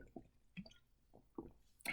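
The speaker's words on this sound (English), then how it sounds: "I'm going to take a little drink of water because my throat is parched." Someone takes a small drink of water, with a few soft, wet gulps and swallows spaced irregularly, quiet and close up with no talking.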